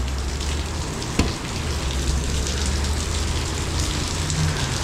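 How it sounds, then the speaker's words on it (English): Steady rain falls outside a garage, a soft continuous patter on surfaces with one brief knock partway through, heard alone without any voices. "you can tell it's a nice rainy day"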